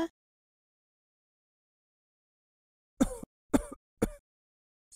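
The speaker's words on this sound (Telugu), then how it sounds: "ఎందుకు నువ్వు అంతగా దగ్గుతున్నావు" After a long silence, three harsh coughs in quick succession, close and fairly loud.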